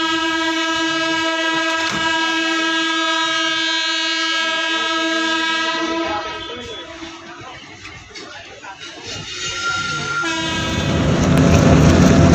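A train passing through Bachhrawan railway station in Raebareli district, with a long steady horn blast, rumbling wheels and clatter rising as the cars roll by, loud and close.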